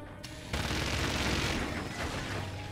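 Sustained, dense gunfire and explosions from the base-building war game Forts, a loud continuous barrage that kicks in abruptly and rumbles on steadily throughout.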